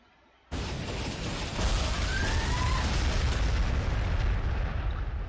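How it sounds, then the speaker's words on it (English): After a brief quiet start, artillery fire erupts in the Warhammer 40,000: Sanctus Reach video game, a sudden dense barrage of explosions that sustains as a loud, continuous rumbling roar. "Artillery. I think we fire into this giant mess."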